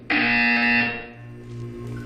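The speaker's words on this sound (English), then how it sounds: "You will hear a buzzer." A loud electronic buzzer tone in the video game Portal 2 blares abruptly, harsh and steady for under a second, then fades into a lower lingering hum.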